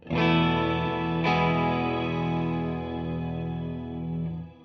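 Overdriven guitar chords ring through the shimmer reverb of a Keeley Caverns V2 pedal, with an octave-up shimmer blended in. Two close strikes open into a long, bright, slowly fading wash, loud and solo.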